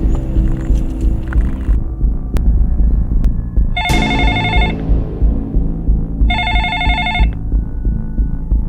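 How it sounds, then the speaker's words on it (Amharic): A telephone rings in two separate bursts of bright, trilling electronic ring over a low throbbing rumble and dramatic hum, loud and near. "አሸናፊ ስልክህን አንሳ"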